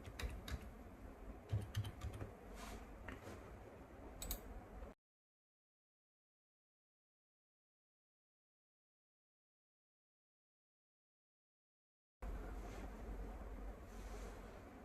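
Keys click quickly on a computer keyboard as a password is entered, faint and nearby. A long stretch of silence follows before a low background hiss returns.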